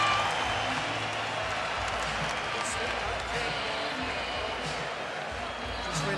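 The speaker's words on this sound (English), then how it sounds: "Now the crowd loves it." A boxing arena crowd at a Pacquiao vs Horn fight applauds and cheers in a steady, dense roar that fills the whole stretch without breaks.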